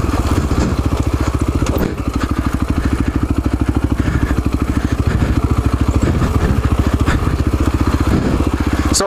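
A Husaberg FX450 dirt bike runs on a technical trail switchback. Its single-cylinder engine chugs loudly and steadily in a fast, even pulse, close by and continuous throughout.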